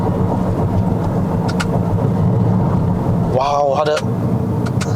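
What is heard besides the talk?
Toyota Corolla Sport 1.2T engine revving on downshift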